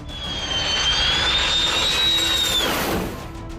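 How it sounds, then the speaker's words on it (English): A low-flying passenger jet on landing approach passes close overhead, a loud, sustained jet engine roar with a rising, shifting whine that swells and then fades, with no talking. "This plane is getting uncomfortably bigger"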